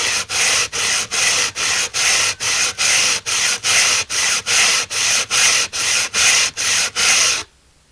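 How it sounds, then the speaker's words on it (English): Sandpaper is rubbed back and forth over a wet natural whetstone during dressing, producing about fifteen even, rhythmic scraping strokes up close. The strokes are loud and regular and stop abruptly near the end. "Just simply sanding the stone."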